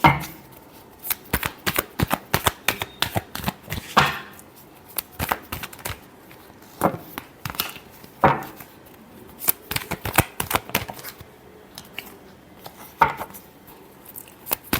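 A deck of tarot cards is shuffled up close in quick bursts of crisp riffling clicks and slaps, clustered in repeated rounds with short pauses between them.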